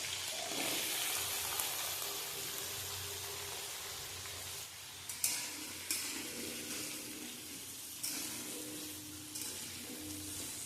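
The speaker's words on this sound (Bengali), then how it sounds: "এতে আমি দিয়ে দেব ডুমো ডুমো করে কেটে রাখা আলু" Diced potatoes go into hot oil with whole-spice tempering and fry with a continuous sizzle, broken by a few brief stirring knocks; no one speaks.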